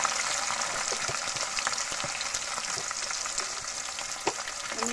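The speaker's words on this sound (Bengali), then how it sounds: "এখন আমি এগুলোর ভিতরে পেঁয়াজ বাটা দেবো" Onion paste sizzles steadily in hot oil over already browned onions for a home-style desi chicken curry, a dense continuous frying hiss with occasional faint clicks, close and loud throughout, no voices.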